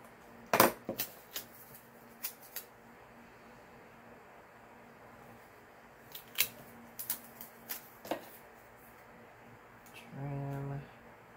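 Scissors cut through paper planner pages in a few quiet, close snips scattered across a calm room, with a short voiced hum near the end.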